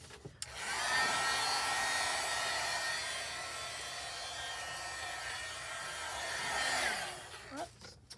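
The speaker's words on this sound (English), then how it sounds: "I'm going to get the heat tool and heat this up a little bit." A crafting heat tool blows hot air over ink, a steady close whooshing hum that runs for several seconds and then cuts off, with no talk.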